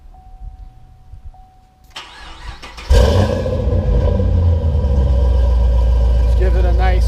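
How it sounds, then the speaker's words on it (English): A supercharged 2010 Chevrolet Camaro SS with a Flowmaster American Thunder exhaust cranks and fires up after quiet talk, then settles into a loud, steady, deep idle that holds close by. "So we'll give it a little start up here so you can hear what it sounds like when it fires up"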